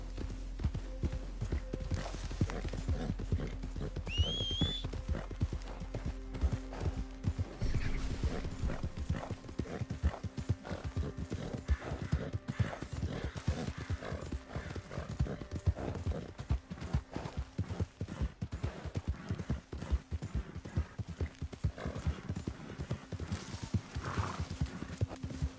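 A horse in Red Dead Redemption 2 clip-clops along at a steady trotting rhythm, hooves close and clear, with a brief high whinny early on and a faint low rumble beneath.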